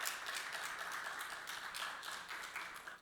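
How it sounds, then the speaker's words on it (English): Applause from an audience at the Visit Trinidad website launch ceremony comes as a faint, steady wash of many hands clapping, with no voices. "Let's get a round of applause for Nival once again."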